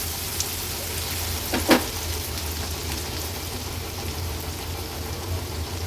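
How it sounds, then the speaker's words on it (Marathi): Crushed ginger and garlic sauté in hot oil with a steady, even sizzle, with a brief louder stir-like crackle near the start and no voices over it. "आलं लसूण क्रश तेलावर असं छान परतून घ्यायचंय"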